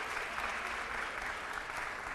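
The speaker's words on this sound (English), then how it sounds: "Let's give these young students a big round of applause." A crowd at a public conversation event applauds for a group of young high school students, steady dense clapping from many hands, moderately distant and continuous.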